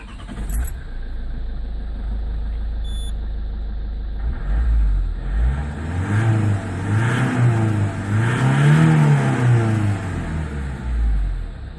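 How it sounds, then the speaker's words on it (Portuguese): A diesel car engine cranks and starts, then settles into a loud, close running rumble with a few rising revs and a steady idle. "Vou ligar aqui o carro para vocês verem aí o trabalhinho do carro. É um carro a diesel"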